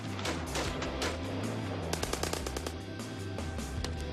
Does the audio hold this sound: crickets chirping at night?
no